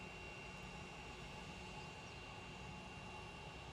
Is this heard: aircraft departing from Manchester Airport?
yes